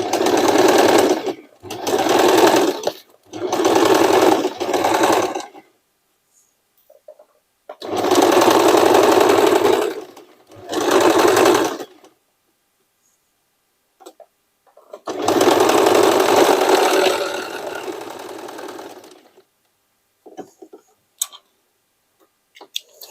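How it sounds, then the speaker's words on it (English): A sewing machine straight-stitches fabric in several rapid mechanical bursts of a few seconds each, separated by pauses with faint handling sounds, close and loud. "First I will fix the piece with straight stitching,"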